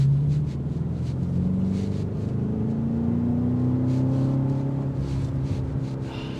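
2025 BMW X5 M Competition with its S68 V8 engine cruising in traffic, a deep, steady rumble from inside the cabin whose pitch rises slowly as the SUV gathers speed, with light road noise over it.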